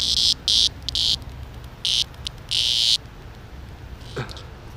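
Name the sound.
cicada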